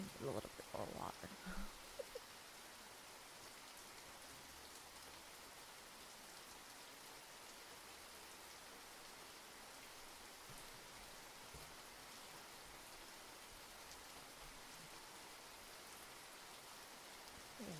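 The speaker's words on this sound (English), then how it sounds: "consistent rain in the background isn't too annoying for you" Steady rain hisses softly in the background, a faint, even wash that continues unbroken after a brief louder stir at the start.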